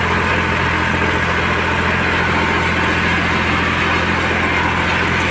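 Steady, loud engine drone of a tractor heard from inside the cab while pulling a Z036 mower (from 1987) across uneven meadows, a continuous low rumble with vibration and no talk.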